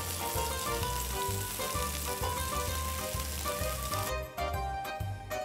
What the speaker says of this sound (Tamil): பேனில் 2 டீஸ்பூன் செசமி எண்ணெயை ஊற்றி டோஃபுவை போட்டு கோல்டன் ப்ரௌன் கலர் வர